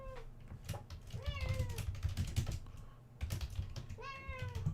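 A pet cat meows several times over a short span, the calls rising and falling close to the mic, with steady computer keyboard typing clattering underneath and a person speaking briefly.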